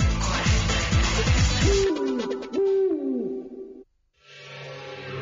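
Owl hooting sound effect on a late-night radio program, several echoing hoots with a wavering pitch following a noisy opening, then a brief drop to silence before a low tone returns.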